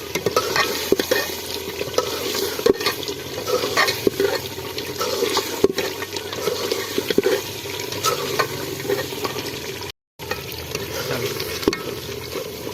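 Chicken curry meat frying and being stirred in a pot, a continuous sizzle with repeated scraping stirs and clacks of the spoon, close and steady with one brief dropout.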